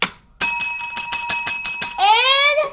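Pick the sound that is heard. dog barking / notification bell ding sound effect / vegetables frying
notification bell ding sound effect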